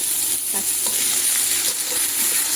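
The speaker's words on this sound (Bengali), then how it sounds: "এখানে রসুন পেঁয়াজটা ভালো করে ভেজে নেব মানে একটু ব্রাউন করে ভেজে নিয়ে" Chopped onion and garlic frying in hot oil, a close, steady loud sizzle with a few faint stirring clinks, no talk.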